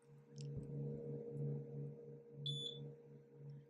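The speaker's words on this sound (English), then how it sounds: "you hear that beep to know that you're connected" A CO2 laser engraver gives a short high electronic beep once over a low steady hum on connecting, with a faint click shortly before.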